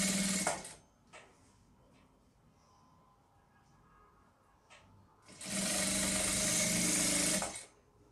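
A sewing machine stitches a trouser seam in short stop-start bursts, then one loud, steady run of fast stitching for a couple of seconds before stopping.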